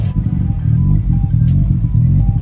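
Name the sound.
Nissan Skyline GTR engine running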